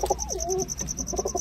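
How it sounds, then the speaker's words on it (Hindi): Soft, rounded pigeon coos close by, a few throaty calls in quick succession with faint background noise. "देखो ये कबूतर"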